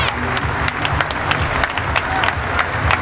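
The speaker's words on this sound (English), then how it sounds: "you can see from the applause" Sustained applause from a cricket crowd at Durban as Jacques Kallis leaves the field after his farewell Test century against India, dense steady clapping with scattered sharper claps, loud and continuous throughout.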